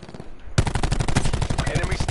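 Rapid automatic gunfire from the Black Ops 4 video game bursts in abruptly after a brief quiet moment, then rattles on loud and close in dense, continuous volleys.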